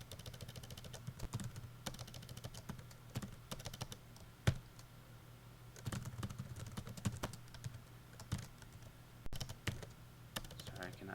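Fingers type steadily on a computer keyboard, close up, with irregular clicks and occasional sharper key strikes over a faint background hum.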